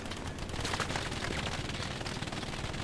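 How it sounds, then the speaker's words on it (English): Gunfire and distant explosions from Hell Let Loose form a steady, dense, rumbling barrage of shots throughout. No voices are heard. "I can't tell where the shots are coming from"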